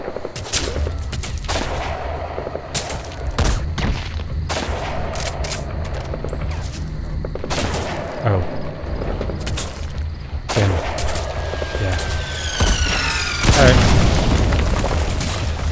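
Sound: gunshot in video game Metal Gear Solid V

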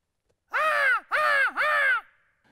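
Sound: crow call blown, imitating crow caws

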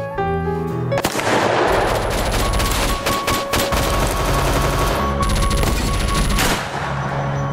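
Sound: gunfire on stage in a school musical

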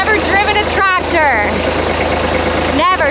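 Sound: tractor engine running while scraping gravel

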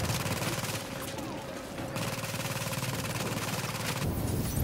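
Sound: shooting turret firing in a video game

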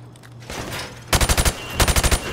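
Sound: gunfire shooting targets through plywood in Modern Warfare Remastered video game

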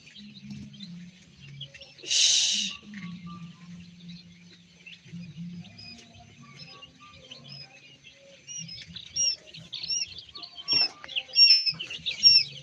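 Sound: quail birds chirping at a quail farm

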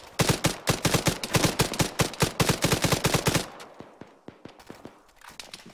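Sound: gunfire from video game ArmA 3

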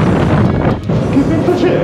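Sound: strong wind blowing on the microphone

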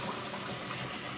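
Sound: pouring cleaning solution into a Bissell carpet cleaner tank

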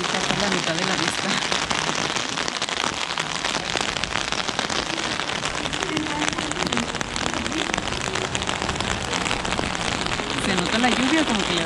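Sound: rain falling in Prague old town square

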